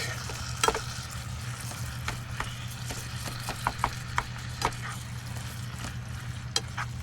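Food sizzles steadily in a pan at a winter campsite in Alaska, a constant frying hiss broken by scattered sharp pops and crackles, fairly close with no talking.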